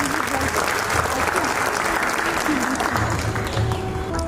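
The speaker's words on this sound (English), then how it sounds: "Let us welcome her with a huge round of applause" At a school annual day celebration, a hall audience gives a steady round of applause to welcome a speaker, with faint voices and background sounds mixed beneath the clapping.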